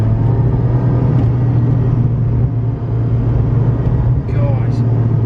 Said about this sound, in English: I'm driving a Ferrari right now